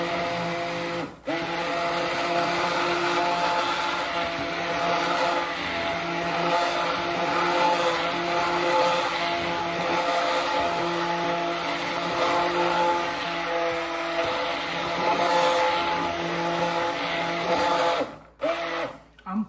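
An immersion blender whirs steadily through a candy apple mix, a loud continuous motor drone lasting many seconds, with brief cut-outs near the start and end.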